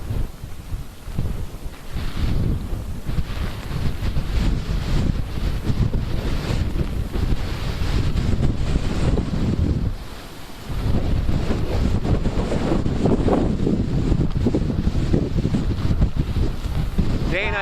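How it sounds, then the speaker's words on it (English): Hurricane Harvey gusts battering the Texas coast, a roaring, buffeting wind rush that pounds the microphone almost without pause, briefly easing once midway. "in parts of the Texas coast, there have been gusts reported up to 118 miles per hour"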